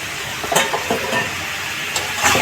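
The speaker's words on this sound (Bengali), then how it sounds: "এই ফুলকপিগুলো দিয়ে দেবো এখন।" Cauliflower florets go into a frying pan and are stirred in hot oil, a steady sizzle broken by several scraping stirs and light clinks of the utensil against the pan, close up and without talk.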